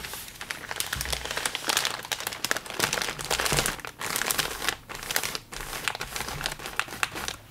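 Room spray bottles being slid into a crinkly plastic mailer package, giving a close, continuous crinkling and rustling with soft taps and scrunches as the bag is handled.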